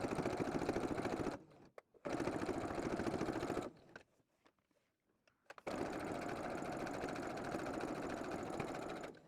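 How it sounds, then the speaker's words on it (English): A sewing machine top stitches a fabric loop for a jar opener, a steady rapid mechanical whir running close and loud, stopping briefly with clicks, then starting again for a second long run. "Now that we've ironed our loop, we're going to top stitch on the end."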